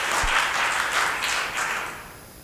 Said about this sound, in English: we can give a big applause to our coordinator, Rui Gomes